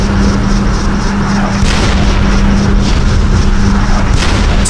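Artillery fire in the strategy game Battlecruisers: a dense, continuous rumble of booming shots with a few sharper cracks, loud and steady throughout, over a low sustained drone.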